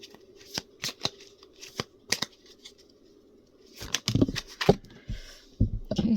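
A tarot deck is shuffled by hand, crisp riffles and card flicks in scattered bursts, quieter at first and then a denser flurry of shuffling near the end.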